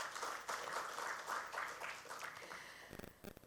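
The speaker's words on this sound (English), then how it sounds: "A huge round of applause for Mr." A round of applause at a panel discussion on markets for the speaker Mr. Mahalingam: dense, steady clapping from an audience, fairly faint and distant, tapering into scattered claps at the end.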